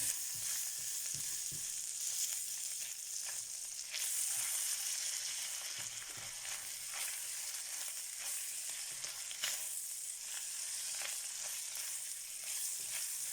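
Bacon strips sizzle steadily in a hot frying pan, a dense continuous crackle with occasional louder pops and faint stirring, no talking over it.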